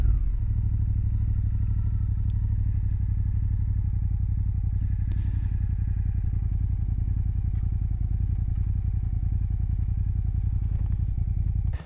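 Suzuki GSX-8S motorcycle engine running steadily at low revs as the bike pulls over, a constant close rumble with light mechanical clatter throughout.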